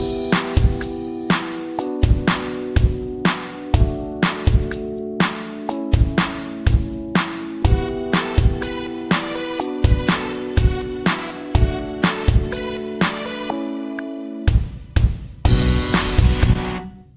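A programmed drum beat with an edited kick part plays steadily: punchy kicks and crisp hits in a regular loop over a sustained tonal bed, loud and close with no talking, ending in a short fill.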